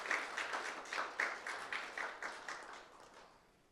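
Applause at a Korean privacy forum as a committee member receives an appointment certificate: a small group claps in a rhythmic, fairly quiet pattern of distinct, roughly evenly spaced claps that slowly fade.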